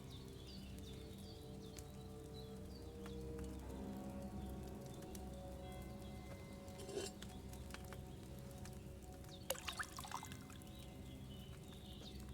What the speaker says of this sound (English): I poured wine in there